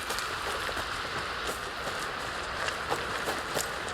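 Rain falls steadily in the video game Alan Wake 2, an even wash of patter on surfaces with scattered droplet hits, close and continuous, with no talking.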